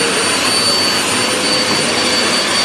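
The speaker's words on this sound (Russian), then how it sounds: "когда нужно что-то по-быстрому пропылесосить, то мы достаем вот этот пылесос" A vacuum cleaner runs close and loud, giving a steady, unbroken whining roar. No voices are heard.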